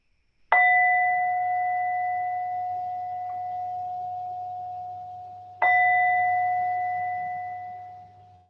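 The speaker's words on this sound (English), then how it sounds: "just listening out for the sound of the bell" A meditation bell is struck twice, about five seconds apart, ending a mindfulness session. Each clear, resonant tone rings out and slowly fades in a quiet room.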